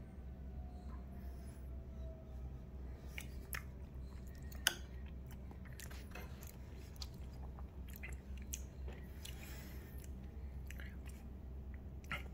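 Steady chewing of Hormel chili cheese topped with extra cheese and sour cream, soft wet mastication sounds close to the mic over a constant low background hum, with no talking.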